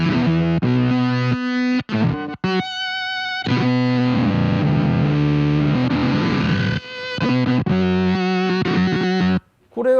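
Guitar through a Bit Commander octave effect pedal, swept by an expression pedal in front of it, gives harsh, buzzy, synth-like distorted tones in choppy phrases with brief silent gaps, loud and alone.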